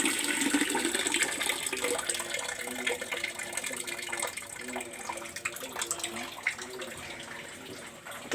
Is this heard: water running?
yes